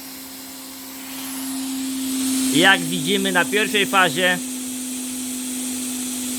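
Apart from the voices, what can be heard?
vacuum cleaner running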